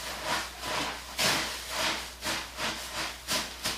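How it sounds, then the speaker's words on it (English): Marshmallows being stirred into a melted mixture for Rice Krispies treats, a soft rhythmic scraping and swishing repeated roughly every half second, close and fairly quiet. "You just want to basically stir in your marshmallows"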